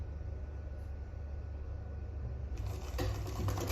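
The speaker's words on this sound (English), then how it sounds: "we just sew on top of that, and then we'll sew it to the end." A sewing machine runs at a steady hum while stitching a half-inch seam on a sleeveless gown, with the motor rising into a louder, brighter whir near the end.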